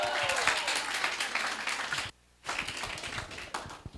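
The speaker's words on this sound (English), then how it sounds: "Round of applause," Applause from a crowd at the Parallel18 Ventures Summit 2023 pitch session, dense and steady, cutting out abruptly for a brief moment before resuming at full strength.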